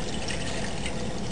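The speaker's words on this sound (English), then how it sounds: "We're going to put our two cups of water" Two cups of water being poured into a camping cooking pot over an alcohol stove, a steady continuous splashing pour heard close up without any talking.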